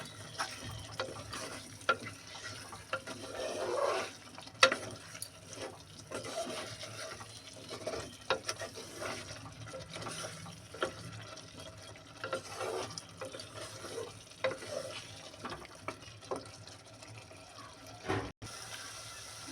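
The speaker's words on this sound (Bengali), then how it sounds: "আর এটা কিন্তু মাটির পাতিলা, এইভাবে কিন্তু ভালো করে কষিয়ে নিতে হবে" Duck meat being stirred and sautéed in a clay pot, giving a continuous wet sizzle with frequent scraping and stirring knocks. The cooking noise is moderate and steady, and a sharper bump comes near the end.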